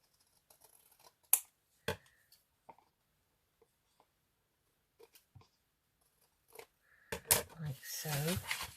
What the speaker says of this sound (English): I will have to trim that a little bit